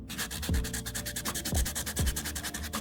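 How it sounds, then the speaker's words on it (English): Steady, rhythmic scraping of a sanding pad rubbed back and forth over dried spackle, close by, with a few heavier strokes standing out in the repetition. "This was the spackle I used, and it's nice because it comes with its own sander."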